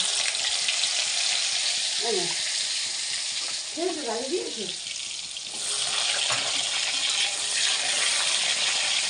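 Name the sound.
carrot frying in pan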